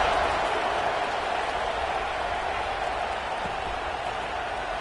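A stadium crowd at a Florida State versus Notre Dame college football game gives a loud, steady roar of cheering during a kickoff, sustained and dense throughout with no distinct voices.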